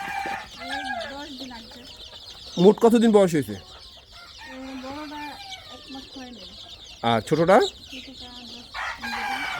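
Free-range desi chickens on a farm cluck and chatter nearby, with a couple of louder bursts of squawking, while people talk over them.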